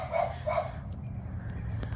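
A pet dog barks twice in quick succession during a May garden tour, the sharp barks fairly close, followed by quieter outdoor background.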